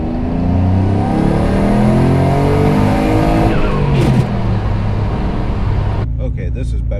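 A built twin-turbo Mitsubishi 3000GT running 28 psi of boost accelerates hard on a street tuning pull. The engine is loud and close, its note rising through revs before a sudden drop as it backs off, with a voice over it.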